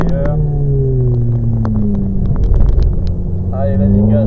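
A Ferrari F430 engine accelerates on a karting circuit, a steady loud rumble with rising harmonic tones that climb through the gears, and a brief shift near the end, with an instructor's voice calling directions over it.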